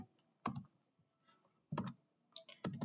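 Short bursts of keystrokes clatter on a computer keyboard as a command is typed, with three or four quick clusters of clicks separated by brief pauses.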